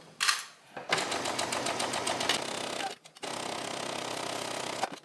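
A sewing machine back stitches and then sews fabric, its needle chattering in a fast, steady rhythm that runs alone, with a short pause before it resumes.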